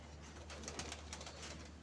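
A female pigeon coos nearby over a low steady hum, the soft calls faint and repeated through the short stretch, with a louder rustle at the very end.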